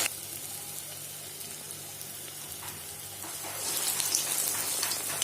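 Urad dal vadas (medhu vada) frying in hot oil give a soft, steady sizzle close by, swelling into a brighter, louder crackle toward the end.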